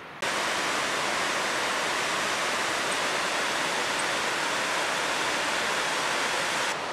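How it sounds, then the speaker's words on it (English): Steady, broad rushing roar of a waterfall in Desolation Wilderness, constant and close, with no voices or other sounds breaking through. "There's a waterfall over that way."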